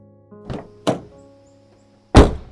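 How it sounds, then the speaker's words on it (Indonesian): A car door closes with two lighter thumps, then a loud, close slam, with no voices. "Pintu ditutup dengan keras."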